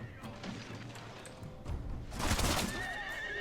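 Armored cavalry horses neighing and whinnying in a Total War Shogun 2 video game battle, a loud whinny rising midway over hoofbeats and battle noise.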